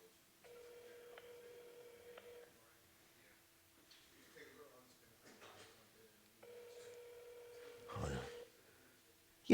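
Ringback tone on an outgoing phone call, two long rings separated by a pause, fairly faint, with some low background rustle and a short noise near the end.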